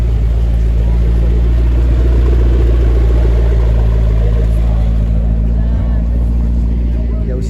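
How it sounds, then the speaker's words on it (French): A McLaren 12C supercar pulls away gently from a supercar gathering on a Paris riverside quay, its engine a loud, steady, close low rumble that holds constant throughout. "Et la petite McLaren 12C qui repart"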